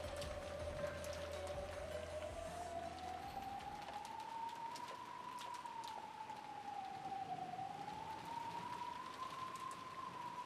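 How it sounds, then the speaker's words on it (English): Pouring rain in the visual novel Umineko: When They Cry makes a steady, soft hiss throughout. A sustained, slowly wavering tone sits on top of it. "Amidst the pouring rain,"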